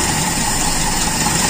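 Toyota Kijang Super engine idling steadily after a carburetor repair, a smooth even mid-pitched running drone heard close and alone, with no stumbling.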